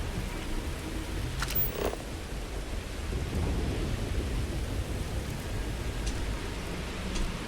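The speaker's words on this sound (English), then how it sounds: "Oh no, there's just a storm." Video game thunderstorm in Starfield: steady rain hiss with low rolling thunder rumbling throughout, moderately quiet and continuous with no voices.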